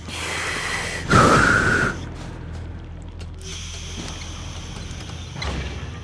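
A steam effect from The Siege and the Sandfox video game: a loud breathy hiss lasting under a second, followed by quieter mechanical hissing and faint clicks.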